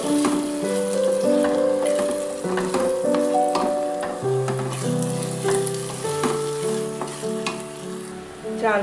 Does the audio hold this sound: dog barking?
no